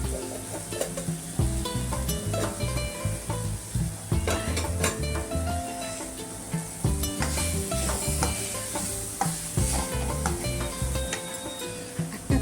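Oil sizzling in a frying pan while cabbage sabzi is being cooked, with steady frying hiss and repeated spatula scrapes and stirs against the pan, close and fairly loud.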